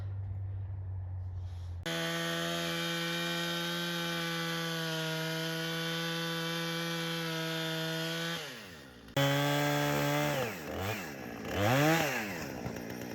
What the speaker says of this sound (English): this is my 82-year-old dad wielding a chainsaw on top of the hood of a 1962 Ford, cutting down barn beams